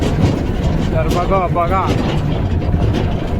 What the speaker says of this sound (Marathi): तर काही जाता आम्ही बघा इथं ट्रॅक्टर बसून चाललोय.